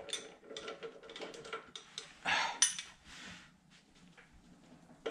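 Harbor Freight Allen sockets on a ratchet click in quick, uneven bursts while a Harley Street Glide front fender is fitted, the ticking close but quiet, with a sharper metallic clink midway.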